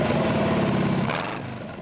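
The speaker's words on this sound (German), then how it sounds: "Wie schön 44 Käfer PS klingen, wenn man den Auspuff quasi weglässt." An Empi Imp dune buggy with a 44 hp VW Beetle engine and practically no muffler, a raw, rattly air-cooled burble up close that fades slightly toward the end.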